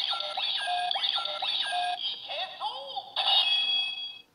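A Ryusoulger changer toy with the Muki Muki soul inserted plays its electronic sound: bright, chirping beeps and sweeping chime-like tones repeating in quick bursts, fairly close and loud, ending abruptly.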